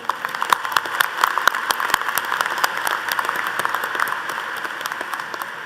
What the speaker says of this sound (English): Please join me in giving one more round of applause to our keynote speaker, Mark Tedford.